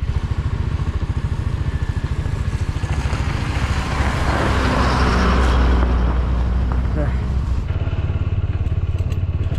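A TVS Apache 160 4V motorcycle rides over an icy, black-ice mountain road in winter in Spiti Valley, its engine droning steadily and close with some clatter and rising road noise throughout.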